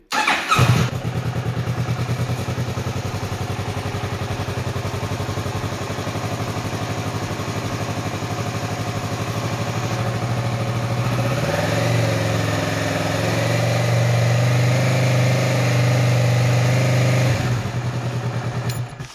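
A Kawasaki Versys 650 motorcycle engine runs steadily and loud throughout, a low idling rumble that shifts to a slightly higher, fuller tone partway, then cuts off near the end.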